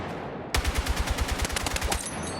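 A rifle with the Warfighter blueprint fires one rapid automatic burst in Battlefield, a string of sharp, loud, evenly spaced cracks lasting about a second and a half, then a brief fading tail.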